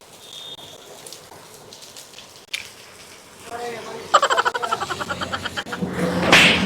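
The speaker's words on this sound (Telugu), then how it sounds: "కింది వర్షం చూడండి ఫ్రెండ్స్ ఎంత బాగా పడుతుందో" Rain falls steadily in a forest, a soft wash that swells into louder, closer spattering and drumming on a surface near the end, with faint voices in the background.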